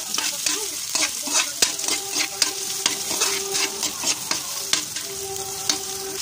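Garlic and onion sautéing in a pan for spaghetti sauce, with a steady sizzle and repeated scraping and clinking of a utensil stirring against the pan, close and fairly loud.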